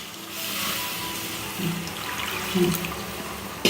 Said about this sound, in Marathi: आता यात मी पाणी घालून घेते.